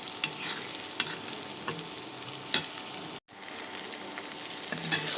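Onions stirred steadily in a frying pan as they cook down to brown, giving a close, continuous sizzle with repeated scraping strokes of the spoon and one brief break partway through.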